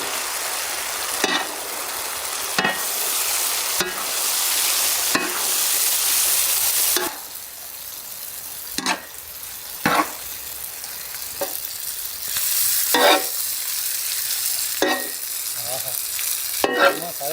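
Boiled pasta is tipped into a hot pan and stirred, a bright hissing sizzle punctuated by repeated scraping strokes of a spoon, the frying dropping in loudness partway through.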